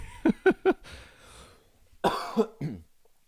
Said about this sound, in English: just needed to cough to let it out